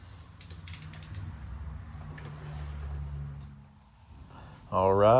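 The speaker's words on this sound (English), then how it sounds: "get your handy dandy torque wrench. I had this one set to 7 foot-pounds" A torque wrench set to 7 foot-pounds tightens the supercharger pulley bolts on an R53 Mini Cooper, giving a few quick, close ratcheting clicks over a steady low mechanical hum, then ending in a louder clattering burst.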